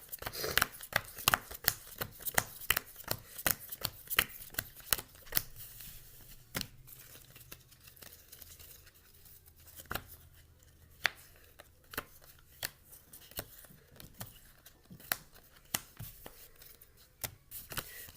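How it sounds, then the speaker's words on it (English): Playing cards dealt one at a time into two piles, a steady run of soft, crisp snaps and slaps on a table, fairly quiet and close, continuing throughout with no talking. "deal the cards into 2 piles until Jack has narrowed down the search"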